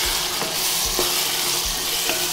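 Brinjal and tomato curry with chili powder being stirred in a pan, with a loud, dense sizzle and a regular rhythm of spoon scrapes, about three strokes.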